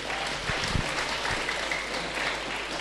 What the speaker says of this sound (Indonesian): Tepuk tangan untuk beliau ganteng.